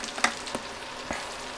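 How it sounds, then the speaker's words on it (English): Chicken pieces fry in oil in a pan while being baked-style sweet and sour chicken is prepared, giving a steady soft sizzle with a few sharper crackles and stirring clicks, no talking. "this is definitely the challenging part of frying"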